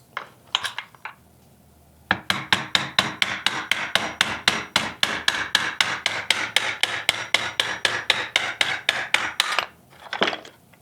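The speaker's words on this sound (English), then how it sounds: "Pound this out gently." Metal axle being hammered out of the drive gear of a Hayward Aquanaut 400 pool cleaner: a fast, steady series of about thirty close, sharp taps, preceded and followed by a few scattered knocks.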